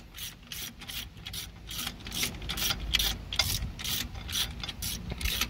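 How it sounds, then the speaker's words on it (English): Ratchet wrench snugging down cylinder head bolts on a Detroit Diesel 6-71 two-stroke engine during a head swap, a run of quick, close, evenly repeated metallic clicks with no talking. "Just snugging down a couple of the bolts real quick so the head will be seated and lock the head gasket in."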